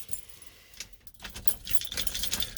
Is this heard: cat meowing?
no